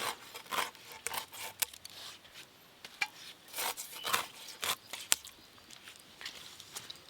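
A scaled hilsa fish being cut with a knife, heard as a close, irregular series of crisp scraping and slicing strokes with short sharp clicks, steady throughout.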